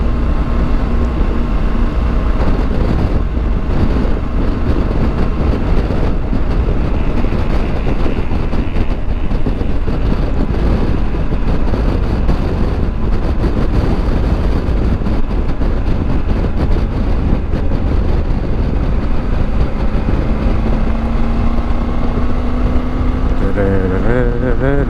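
A motorbike cruises along back roads in Poland on a 10,000-mile European tour, its engine drone and rushing wind loud and constant throughout, with a faint rising tone near the end.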